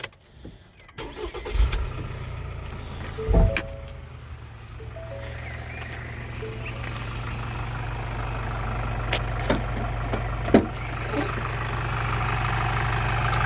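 A Ford Transit Custom diesel van engine cranks and catches after a couple of thumps, then settles into a steady low idle rumble with occasional clicks nearby.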